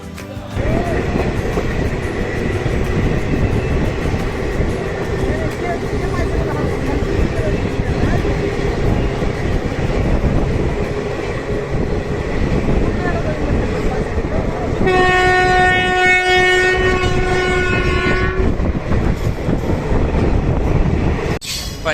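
Continuous loud rumble of a train approaching Rampurhat station, with a long, steady horn blast sounding for a few seconds partway through.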